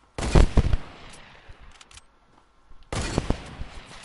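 Scoped gun fire in Fortnite, two close, loud bursts of rapid automatic shots separated by a quieter stretch with scattered faint pops.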